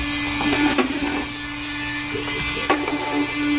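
A sanding drum spinning with worn-out sandpaper gives a steady high whine and buzz, with a couple of brief scraping touches against the workpiece, close and loud throughout.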